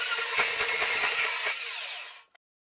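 A power tool cuts about a quarter inch off the end of a metal box section with a steady high whine and grinding, then stops, followed by a faint click.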